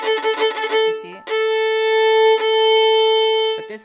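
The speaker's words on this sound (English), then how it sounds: "This is the sound of a gripping bow," Bowed string instrument with the bow gripping the string firmly: a few quick short strokes, then a full, steady sustained note held for over two seconds, close and loud.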